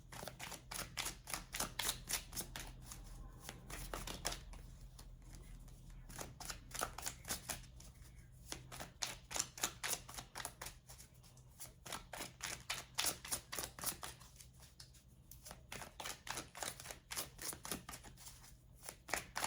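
Tarot cards are shuffled by hand in quick, continuous riffling and sliding flicks, close and soft, with a rapid rhythm and short pauses.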